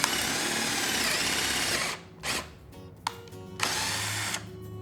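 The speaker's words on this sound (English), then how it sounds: "So let's get our pilot holes drilled in." A power drill bores pilot holes into a spare tire, whirring loudly and steadily for about two seconds, then stopping and starting again in short bursts with brief pauses between them.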